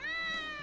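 A single short, rising-and-falling cat meow from the video game Gravity Rush 2, heard clearly and close with a smooth, tonal voice.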